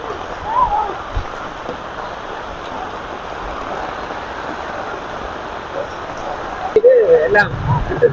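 Heavy rain pours down in Jaffna with flooding water, a dense, steady wash of noise throughout, while a person talks over it and a louder splash or clatter comes near the end.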